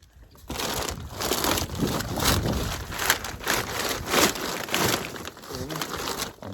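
A plastic bag of tree saplings crinkles and rustles continuously and loudly up close as the young trees are pulled out one by one.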